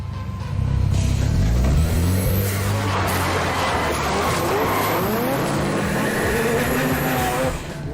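A fast car drives past loudly with a strong engine roar and tire noise, rising and holding steady for several seconds before trailing off, with no talk.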